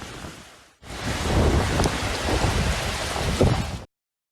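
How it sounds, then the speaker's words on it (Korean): Heavy rain pours down hard during a storm in Busan, a dense, steady roar with rumbling low bursts, starting abruptly after a brief quieter patch and cutting off sharply at the end; no voices. "세차게 퍼붓는 빗줄기 소리도 생생하게 전해집니다"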